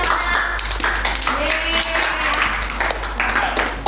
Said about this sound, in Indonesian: berikan applause buat Mbak Fanya